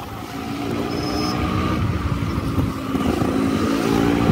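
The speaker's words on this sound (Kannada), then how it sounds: "ಥ್ರಾಟಲ್ ಇಟ್ಟು ಥ್ರಾಟಲ್ ಆಟ ಆಡು ಅಂದರೆ ಹಿಂಗೆ ಆಟ ಆಡಬೇಕು" A motorcycle engine rumbles loudly as the throttle is worked, the drone swelling gradually over a few seconds amid wind noise.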